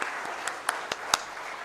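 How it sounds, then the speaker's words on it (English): Quiet, scattered applause at a Tribals Pride Day gathering in Jharkhand, a soft patter with a few louder individual claps standing out. "can we have a huge round of applause, please?"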